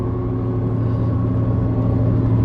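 A Lexus SC300 with a Whipple-supercharged 1JZ VVT-i engine drives along with a loud, steady, low engine rumble and drone from close inside the car, with no revving surges.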